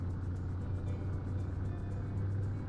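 A tractor-like vehicle in Farming Simulator 19 drives along with a steady low engine drone and rumble, constant and close, with no break.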